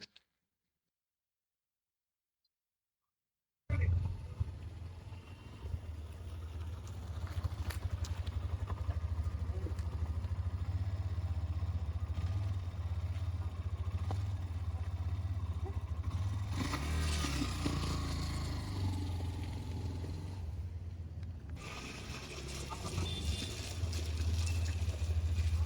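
A motorcycle engine runs for a long stretch after a brief silence, a loud, steady, close rumble that swells slightly partway through and is mixed with clattering.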